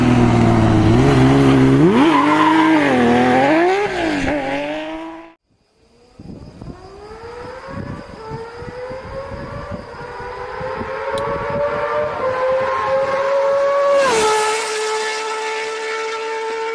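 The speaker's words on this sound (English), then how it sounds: "Many enthusiasts consider the CBX1000 to have the best exhaust note of any motorcycle ever made." A Honda CBX1000 six-cylinder motorcycle revs hard and loud, its exhaust wailing up and down in pitch, then after a short gap accelerating through the gears with rising howls and a sharp final upshift.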